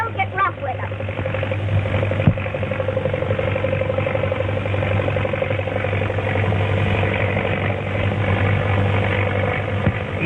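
A 1930s airplane engine drones steadily throughout a forced landing, a continuous mid-pitched rumble with a low hum underneath.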